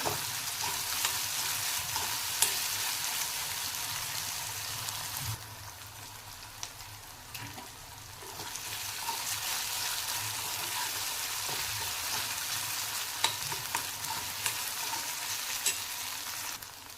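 Onion and tomato with ginger-garlic paste cooking down in a pan for potato bhurji, a steady, dense frying sizzle with soft crackles that continues throughout, dipping slightly for a few seconds midway, with no voices.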